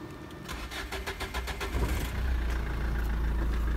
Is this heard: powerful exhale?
no